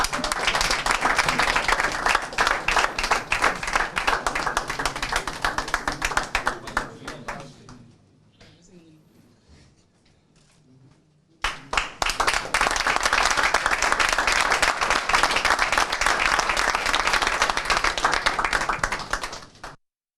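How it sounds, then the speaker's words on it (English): An audience claps for Ghana's amputee football team after a $1,000 pledge, with dense, loud applause that drops away to a brief lull before surging back just as strongly. "Let everybody clap."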